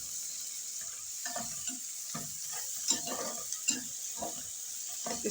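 Ginger garlic paste fries in a pan with a soft, steady sizzle, broken by repeated scraping strokes of a spoon stirring it, heard close and fairly quiet with no talking.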